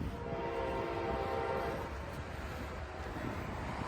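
An Amtrak train rolls past with a sustained horn blast at the start, and the loud, broad rumble of the train continues steadily throughout.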